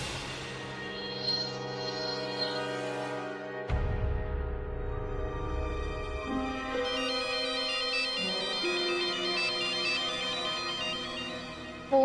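A melodic electronic phone ringtone plays on and on, a repeating tune at moderate volume with no talking.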